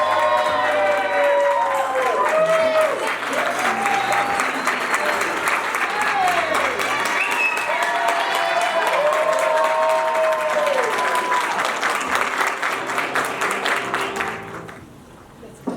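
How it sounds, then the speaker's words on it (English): Guests at a wedding reception burst into sustained applause and scattered cheers, a dense clapping roar lasting over ten seconds before tapering off, with voices and a few whistles mixed in. "Nice round of applause."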